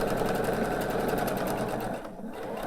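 Sewing machine stitching a quarter-inch seam on quilt binding runs fast and continuously, a loud close whirring chatter that slows briefly near the end.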